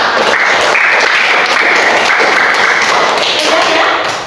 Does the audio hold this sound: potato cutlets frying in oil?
no